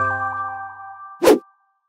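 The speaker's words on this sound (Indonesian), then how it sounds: "Subscribe dan nyalain lonceng notifikasi jadi gak ketinggalan video berikutnya" A notification bell sound effect: a sustained bright chime tone fading out, then a short loud plop-like ding just before it cuts to silence.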